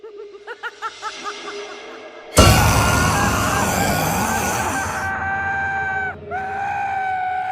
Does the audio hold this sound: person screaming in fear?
yes